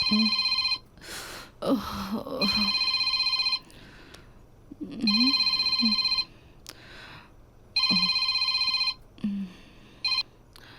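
A telephone rings in repeated electronic bursts, three long trilling rings separated by pauses, with faint rustling and a few soft noises between them.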